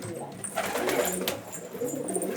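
Homing pigeons cooing in a loft, soft low burbling coos close by, mixed with rustling and faint voices in the background.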